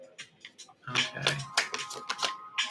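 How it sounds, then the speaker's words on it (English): Tarot cards are shuffled close by in a quick run of crisp flicks and riffles, irregular and fairly quiet, with soft handling noises between bursts. "And y'all saw me shuffle these cards."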